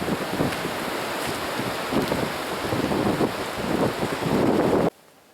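Strong wind roars steadily during a windstorm at a forest camp, with rising gusts buffeting the microphone before cutting off abruptly near the end.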